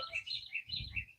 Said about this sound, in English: That bird right there is the one that's so loud.